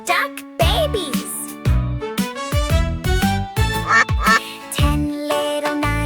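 A cartoonish duck quacking repeatedly in a children's counting song, with loud, nasal quacks set over bright, bouncy music.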